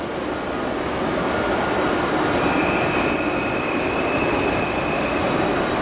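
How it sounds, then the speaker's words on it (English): A passing Deutsche Bahn train rumbles loudly and steadily nearby, with a continuous wheel roar and a faint high squeal over it. "that's a Deutsche Bahn back there"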